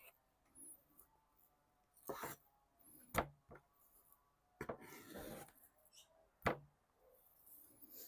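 A knife cutting salo (cured pork fat) into four pieces on a board, with several distinct short rasping slices and scrapes spaced apart over a quiet background.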